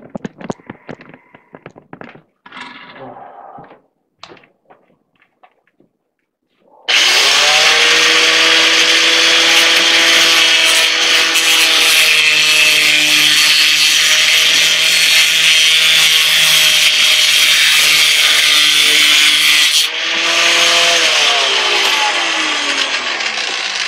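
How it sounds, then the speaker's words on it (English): An angle grinder cuts off the end of a steel Allen key held in a vise, a loud, steady high-pitched whine and grinding roar lasting about thirteen seconds before winding down, after a few quiet handling knocks. "we're going to cut with the grinder. We'll cut off the end of the Allen key."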